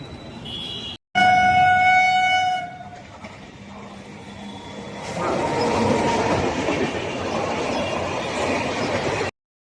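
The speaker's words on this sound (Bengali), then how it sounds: "এই তো ডানকুনি শিয়ালদা লোকালে উঠে পড়লাম।" A Dankuni–Sealdah local train at Balighat station sounds a loud, sustained two-tone horn for about two seconds, then runs on with a steady rolling rumble and wheel clatter that swells louder toward the end.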